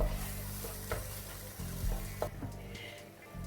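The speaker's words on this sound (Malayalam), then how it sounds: "ടൊമാറ്റോ സോസ് കൂടെ ഇതിനകത്ത് ഒഴിച്ചു കൊടുക്കുന്നുണ്ട്." Tuna pasta sizzles and hisses steadily in a hot pan as tomato sauce is poured in and stirred, with a few louder spatters, close and alone without talk.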